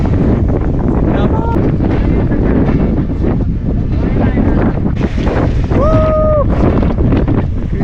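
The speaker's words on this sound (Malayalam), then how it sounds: "നല്ല കാറ്റടിക്കുന്നുണ്ടേ" Strong monsoon wind on the Harihar fort trek roars loud and steady against the microphone, with brief voices and a whistle-like tone partly buried in the gusts.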